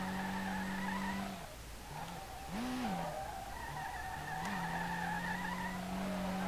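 Simulated car drifting in the SLRR video game: a steady engine drone with loud, wavering tire squeal and skid sweeping through the whole stretch, rising and falling with the slides.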